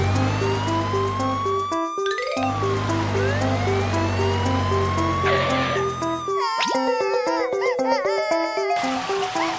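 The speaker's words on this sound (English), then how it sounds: "Fire engine, go!" Cartoon fire engine siren in the BabyBus children's game Baby Panda World, Book of Vehicles, a wailing electronic tone rising and falling over bright game music and sound effects, loud and continuous throughout.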